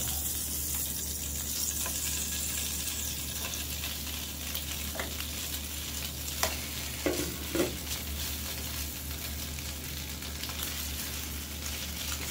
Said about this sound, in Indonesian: Daging burgernya kita matangin dulu